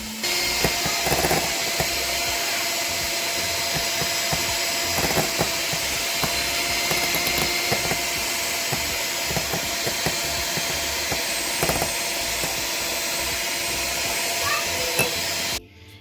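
An electric hand mixer beats whipped cream with milk added, giving a steady high whirring drone that runs close and loud and unbroken for about fifteen seconds, then stops abruptly.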